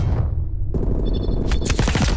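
Gunfire in Call of Duty Cold War played on a PS4 Pro: a close, loud burst of shots with a booming onset, followed by rapid sharp reports and clattering mechanical noise.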